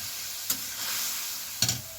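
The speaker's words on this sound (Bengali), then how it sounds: "দিয়ে মশলাটা সুন্দর করে কষাবো" Spice paste being stir-fried in a pan with the spice-rinsing water added, a steady hiss of sizzling with two sharp scrapes of the spatula against the pan, close and alone.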